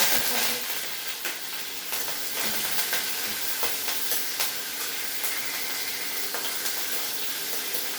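Curry leaves and green chillies fry in hot oil with a loud, dense sizzle and crackle, a steady hissing spatter that stays close and continuous throughout.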